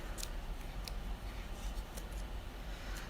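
Scissors snipping through yarn bundles for a pom-pom, a few quick crisp cuts heard close over a soft steady background hiss.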